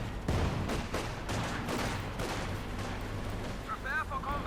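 Artillery fire from Company of Heroes 2, including Stuka zu Fuss rocket artillery, lands in a run of sharp booming blasts and crackling impacts that fill the battle soundscape, with game noise layered throughout.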